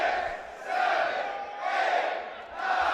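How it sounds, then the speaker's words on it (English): A wrestling crowd at a Relentless Wrestling event chants in loud, swelling waves, rising and falling roughly every second, with no talk over it. "You hear the crowd chanting."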